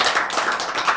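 A congregation at a Korean lecture on faith breaks into brief, dense clapping, a busy even patter of many hands that stays close and steady.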